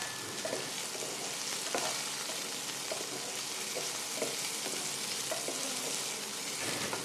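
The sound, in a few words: karamcha fruit frying in a pan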